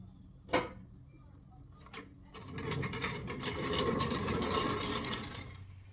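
A nut being tightened down onto a wheel of a 1955 Wheel Horse Senior garden tractor: two sharp metallic knocks, then a close, continuous ratcheting and grinding rattle that builds and holds before easing off.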